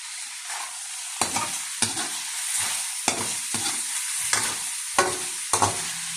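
Semi-chopsuey vegetables sizzle steadily in a pan while a utensil stirs them, with repeated scraping clatters against the pan at irregular intervals over the constant hiss of frying.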